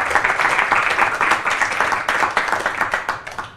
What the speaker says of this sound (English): please join me by greeting Jane Mansbridge with a big applause